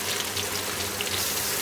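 Water runs steadily into a cooking pot while chicken biryani is prepared, after onion, tomato and green chilli have been sautéed with the meat; a continuous close, even splashing stream with no talk.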